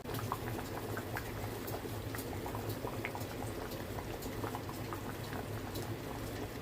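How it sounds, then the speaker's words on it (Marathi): Potatoes with their skins boil in a covered pot of water, giving a continuous, dense bubbling and popping at an even level throughout, close by and with no talk. "आता वरती परत पाणी ठेवून बटाट शिजेपर्यंत आपण वाट बघायची."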